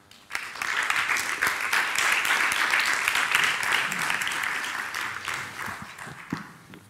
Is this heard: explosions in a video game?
no